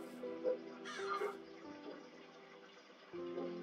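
Bird calls ring out in a modded Minecraft 1.18.2 world: a few crow-like caws and harmonic cries, moderately close, over a faint continuous ambient bed and a brief splashy burst.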